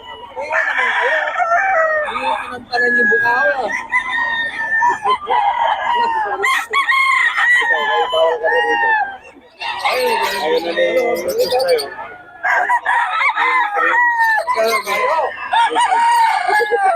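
A young gamecock stag crowing repeatedly, loud and close, with overlapping clucks and other fowl calls filling the background almost continuously.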